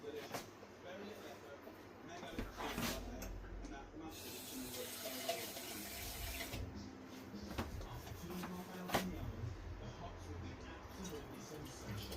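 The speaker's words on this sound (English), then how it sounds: "Let's go and put some water in this bottle" Tap water runs into a bottle in a home kitchen during cooking, a soft hissing stream that starts and stops in bursts while a person talks over it.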